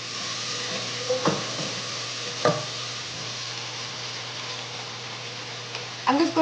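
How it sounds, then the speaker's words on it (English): Potatoes cook in a home kitchen pan with a steady, broadband sizzle, broken by a few sharp clinks and scrapes of a utensil, close and moderately loud. "I'm just going to let the potatoes cook for a little bit."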